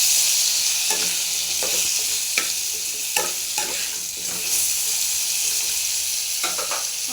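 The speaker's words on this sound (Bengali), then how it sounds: "দেখো বন্ধুরা, আলুগুলো ভাজা ভাজা হয়ে যাচ্ছে।" Potatoes frying in hot oil in a home kitchen pan for a potato and soybean dish, giving a steady close sizzle broken by repeated stirring scrapes and clatters, with no talking.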